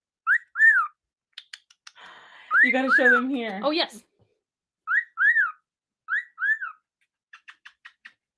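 A talking pet bird gives repeated rising-falling whistles and short chirps in clear bursts, with a longer warbling call in the middle and quick faint chirps at the end, while people talk briefly nearby.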